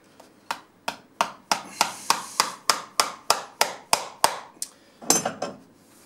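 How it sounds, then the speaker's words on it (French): A galochier's hammer drives a nail into a wooden Cantal clog with about a dozen sharp, evenly paced, close blows, ending in a quick flurry of lighter taps. "on prend une pointe, le marteau"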